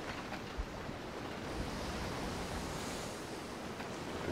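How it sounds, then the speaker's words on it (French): Steady, rushing surf and wind noise of waves breaking over a ship in the video game Sea of Thieves, a continuous dense wash at moderate level with no voices. "les vagues qui déferlent sur le bateau devient vraiment difficile à manœuvrer"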